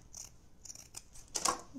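Scissors snip through drop cloth fabric in a few short, quiet cuts, ending with one sharper, louder snip, close by and with no talk.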